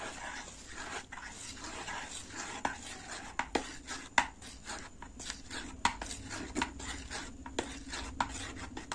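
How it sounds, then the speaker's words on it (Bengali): A spoon stirs banana sarbat in a glass with cold water, giving soft repeated clinks and scrapes against the sides in an uneven rhythm. The sound is quiet and close, with faint background hum. "মিক্সি হলে ভালো হয়, কিন্তু মিক্সি তো নেই, চামচ দিয়ে গুলে নিতে হচ্ছে।"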